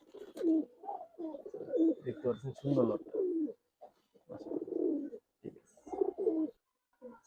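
Palla-line pigeons coo in low, bubbling bursts beneath someone talking in short phrases, with brief quiet gaps between.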